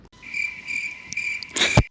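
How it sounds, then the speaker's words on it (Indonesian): A cricket chirps in a steady high trill as an inserted sound effect, sustained for nearly two seconds, ending with a short louder burst. "mari bersama kita tunggu jawaban Mi Cincau setelah suara jangkrik berikut"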